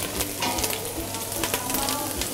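Tomato paste frying in a pan, a loud close continuous sizzle and crackle with repeated scraping clicks from stirring, no voices.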